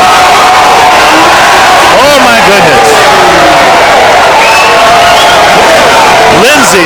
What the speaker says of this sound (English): that really got the crowd off their feet here